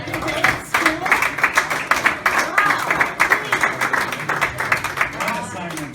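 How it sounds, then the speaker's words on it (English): An audience at a school board meeting applauds students, producing dense, steady clapping that lasts several seconds, with voices mixed in. "Can we just applaud these students"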